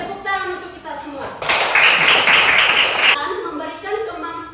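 A classroom full of children claps together in a burst of applause lasting under two seconds, with a teacher's voice talking before and after.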